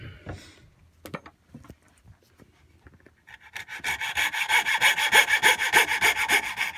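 Hand saw cutting through timber outdoors for a storage box, starting after some faint handling knocks with a rapid, rhythmic run of rasping back-and-forth strokes, close and growing louder toward the end.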